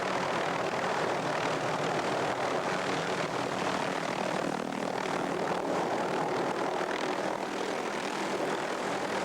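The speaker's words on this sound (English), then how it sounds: "the helicopter lifts them to a waiting stock trailer." A helicopter lifting a netted, blindfolded moose toward a stock trailer in Colorado, its rotor and engine making a steady, continuous drone that holds at an even level throughout.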